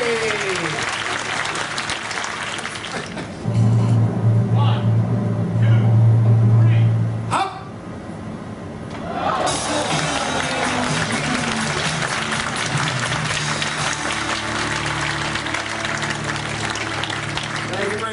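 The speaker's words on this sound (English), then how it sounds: "applause" After a magic trick, an audience bursts into applause, then a loud low hum and a voice interrupt for a few seconds before the clapping swells again and carries on.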